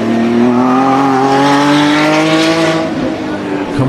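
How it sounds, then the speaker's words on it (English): A car engine revs hard with a loud rising and falling harmonic whine, close and sustained, roughening near the end, with a voice speaking over it. "People who love cars can tell what type of car it is by the sound of the engine."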